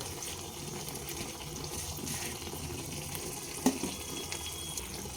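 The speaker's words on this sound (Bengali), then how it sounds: "দেড় কাপ মতো গরম জল দিয়ে দিলাম" About a cup and a half of hot water poured into a cooking pan of shrimp and spring onion curry, a steady close gushing stream with a brief clink near the end, no talking.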